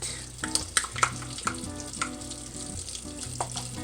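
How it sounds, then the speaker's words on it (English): Dulce de leche is stirred into melted butter in a pan, a soft steady sizzle with scattered spoon scrapes and clinks, close, over light background music, with no talk. "So now I'm just going to stir it around so that it can melt."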